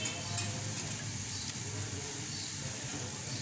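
Whisked yogurt hitting bhindi masala frying in a pan, giving a soft, steady sizzle and hiss with faint stirring scrapes, fairly quiet and continuous.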